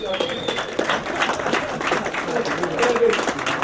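Audience applause at the CPAC 2011 conference, a steady wash of clapping from a crowd that carries on for several seconds, with voices and a few cheers mixed in.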